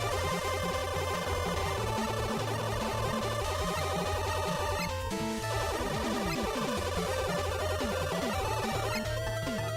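Mega Man Maker gameplay with the double-shot upgrade fires rapid, repeated blaster shots over busy chiptune music and game effects, a dense, continuous electronic clatter with no voices.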